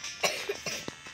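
A few short coughs over a Roblox game session, with a couple of sharp bursts and quieter hacks in quick succession, close and fairly loud with no talk.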